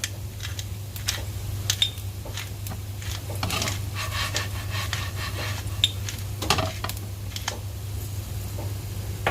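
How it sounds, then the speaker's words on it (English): Salt and pepper fry in olive oil in a pan, a soft steady sizzle with light scraping and clinking of utensils scattered throughout. "So just fry a little bit so you get a good flavor."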